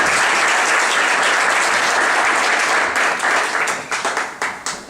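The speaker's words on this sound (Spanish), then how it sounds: "pido un fuerte aplauso por el arquitecto Carlos Cedillo" A conference audience gives a speaker, an architect, loud sustained applause, a dense close wash of many hands that thins toward the end into a few separate claps.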